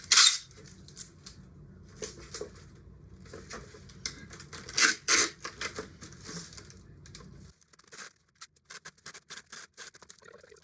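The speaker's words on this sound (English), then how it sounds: "we're just gonna tape them closed" Plastic jugs for winter sowing being taped closed: bursts of tape ripping and crinkling plastic handling, close and irregular, with quieter gaps and short scratchy pulls near the end.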